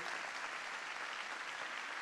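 Steady, dense applause from a church congregation, continuous clapping at an even level throughout with no talking.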